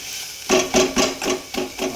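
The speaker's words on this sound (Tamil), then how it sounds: "மேஷர் எடுத்து இப்படி மேஷ் பண்ணிக்கோங்க" Cooked potato filling for masala dosa mashed with a hand masher in a pot, giving six dull, regular squelching thuds about a quarter second apart, close and fairly loud with no talk.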